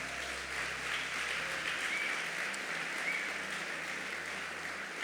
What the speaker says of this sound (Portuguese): Se você crê, por favor, levanta a sua mão aí e aplaude a Jesus bem forte.